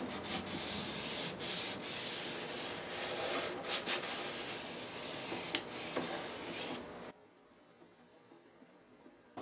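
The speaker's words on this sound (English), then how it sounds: "I'm going to step it up one more to 600 grit." Hand sanding with 600 grit sandpaper along the edge of a ten-string classical guitar: steady, close rubbing strokes for about seven seconds, then an abrupt stop into near silence.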